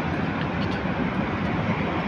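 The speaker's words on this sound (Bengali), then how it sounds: "সুন্দর একটি বিমান যাচ্ছে" A Himalaya Airlines airplane taxis before takeoff, its engine producing a steady, loud broadband roar with no breaks, heard close by.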